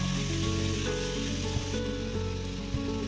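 Onion frying in a pan with chopped tomato and ground spice paste added for a chicken ghugni, giving a loud, dense, continuous sizzle up close, with a couple of faint knocks and no talking.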